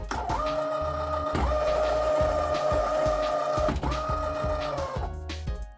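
A 2007 Logitech force feedback steering wheel calibrating: close mechanical whirring and grinding pulses along in repeated strokes, the motorized wheel turning back and forth with clunky stops.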